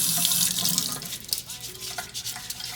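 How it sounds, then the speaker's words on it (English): Tap water running into a sink while gloved hands work a bar of homemade soap into a lather, a soft close splashing hiss with faint rubbing, no talk. "I'm going to take you all to my sink and I'm going to do a lather test with my gloves"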